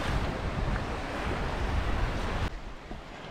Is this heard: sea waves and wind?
yes